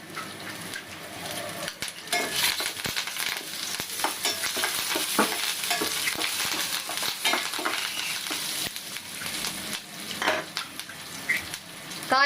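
Curry leaves and dried red chillies sizzle in hot oil for mor kulambu, a steady crackling hiss with scattered pops and the scrape and clink of a stirring spoon against the pan throughout.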